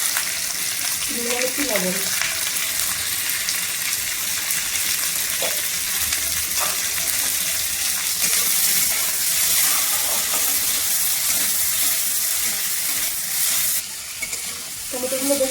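Tomatoes and spices sizzle steadily in a hot pan for a Rajasthani besan gatte curry, a continuous bright frying hiss with occasional stirring scrapes, close up, while a voice briefly speaks.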